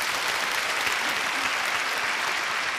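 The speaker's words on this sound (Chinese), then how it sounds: "热烈的掌声送给十二位老板" A studio audience on a televised job-recruitment show applauds a panel of twelve employers, a dense, steady wash of many hands clapping at even loudness throughout, with no talk.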